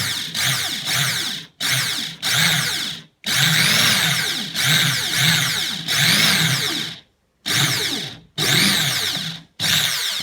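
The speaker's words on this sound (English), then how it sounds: "we've had to move on to a power drill now" A power drill whirs in repeated bursts, starting and stopping about eight times with brief silent gaps, loud and close, drilling an endpin jack hole in an acoustic guitar.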